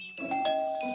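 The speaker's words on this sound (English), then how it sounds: "who's ringing the bell?" A doorbell ringing in the horror video game Scary School Teacher, a short ding-dong chime that sounds once, fairly faint and clear, with no voices.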